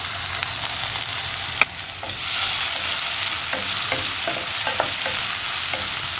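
Small tomato pieces fry in a pan for a chammanthi side dish, giving a continuous close sizzle broken by occasional stirring scrapes and clinks of a spoon.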